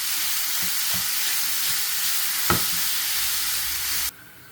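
Grated carrots and onion frying in a pan for tuna vegetable spring rolls, a steady loud sizzle with a few soft scraping stirs, cutting off abruptly near the end.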